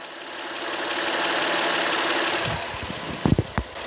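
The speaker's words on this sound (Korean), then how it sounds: "바로 엔진 소리 한번 들려드릴게요." A Honda Crosstour with a 3.5-litre V6 idles steadily as a smooth, quiet hum, with a few brief sharper knocks or clicks near the end.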